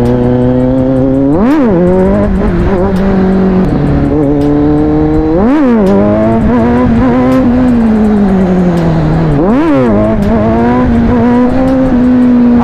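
A Kawasaki Z900 motorcycle engine revs loudly and close, several sharp throttle blips rising and falling over a steady idle drone.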